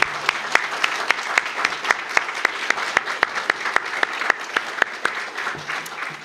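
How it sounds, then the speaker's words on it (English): Audience applause at a public quantum network launch, with a steady bed of clapping and several sharp, distinct claps standing out close by at regular intervals. "I think we should give them a big round of applause and have them stand up"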